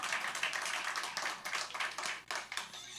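A church congregation claps continuously with dense, uneven hand claps, fairly faint and somewhat distant, with no talking over it.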